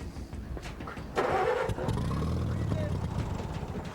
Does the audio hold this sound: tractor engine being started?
yes